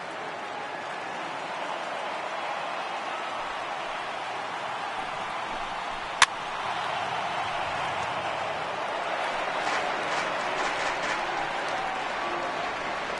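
Stadium crowd noise in the MLB Road To The Show baseball video game with the Blue Jays, a steady broad roar of a large crowd on its feet in the ninth inning, with one sharp crack midway and faint announcer-like voices.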